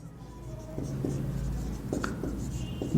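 Chalk strokes on a classroom board during a Hindi grammar lesson, a run of short scratchy taps and scrapes in an uneven writing rhythm, close and clear over a low room hum.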